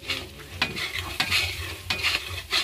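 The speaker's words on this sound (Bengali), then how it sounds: "মশলাটা ভাজা হয়ে গেল," Spices with garlic, chilli powder and turmeric powder sizzle in hot oil at a picnic cookout while being stirred, with loud scraping strokes recurring roughly every half second over a steady frying hiss.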